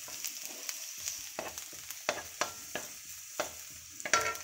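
Garlic and onion sautéing in a pan with a light, steady sizzle, broken by repeated clinks and scrapes of a utensil stirring against the pan, fairly close and moderately quiet, with no voices.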